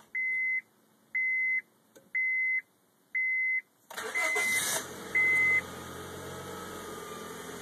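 A 2005 Honda Civic, just back from a head gasket repair, chimes four times before its engine cranks and catches, then settles into a steady idle close by with no talk over it.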